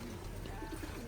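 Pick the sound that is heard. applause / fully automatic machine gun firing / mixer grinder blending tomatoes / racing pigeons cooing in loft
racing pigeons cooing in loft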